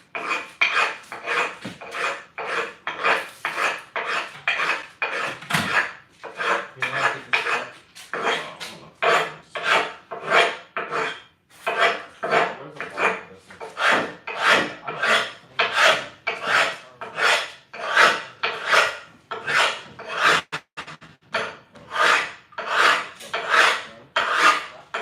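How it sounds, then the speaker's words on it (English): A file rasps back and forth on the corners of a stone tile in a long even rhythm of loud, close strokes that speed up toward the end, with no talking. "I'm gonna bevel the corners a little bit around the mark"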